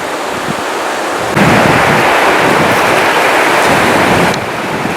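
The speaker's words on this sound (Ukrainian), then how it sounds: "Течія тут доволі сильна і вона далі он переходить у водоспад вир." Strong river current rushing through a granite canyon just above a waterfall, a steady broadband roar that swells louder through the middle of the stretch before settling back.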